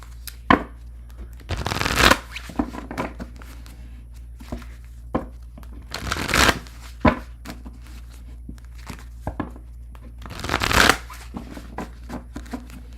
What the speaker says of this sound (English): I'm going to shuffle and move on to Scorpio.